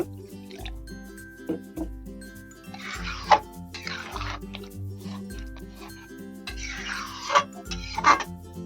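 Water poured into a simmering green potato curry (aloo dum) in a pan comes as two short splashy, dripping bursts, each lasting about a second, over a quiet kitchen background with a steady low tonal hum.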